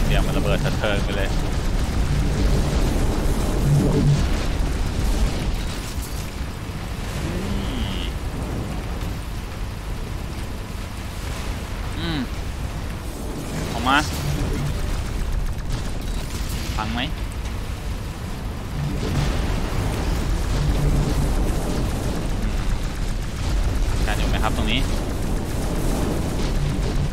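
Explosions in the X-Morph: Defense video game boom in dense, overlapping blasts with a continuous rumbling roar, loud and constant, with a few sharper bursts and game effects layered over.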